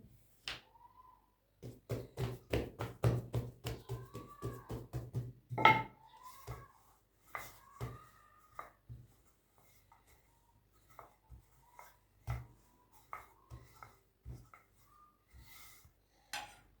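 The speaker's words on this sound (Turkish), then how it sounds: "Şimdi merdanayla açıyorum." A wooden rolling pin rolls out soft poğaça dough on a board, giving a run of quick rhythmic knocks and taps that thin into scattered, quieter bumps and clicks.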